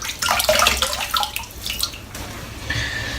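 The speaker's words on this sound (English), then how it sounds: "a little splash of water" Close, wet splashing of water on a face, a few quick slaps and drips fading into a softer trickle.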